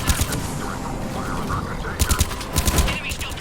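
Gunfire in a Mass Effect 3 firefight, with dense bursts of rapid shots crackling over a constant roar of battle noise, loud and close, with a few heavier volleys near the end.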